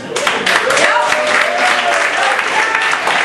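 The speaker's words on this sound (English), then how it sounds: "It's not a very enthusiastic clap." Scattered, moderate clapping from an audience with some crowd murmur, fairly steady and not very energetic.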